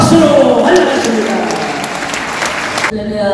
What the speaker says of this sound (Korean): 하나님께 영광의 방송 돌리시면서 박수로 환영하십니다.